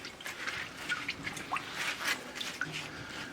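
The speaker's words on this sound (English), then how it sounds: "Now we're going to want to let this drip dry" Resin-soaked wood burl dripping dry after casting prep for woodturning, with faint irregular drips and small liquid patters over a steady low background hiss, no talking.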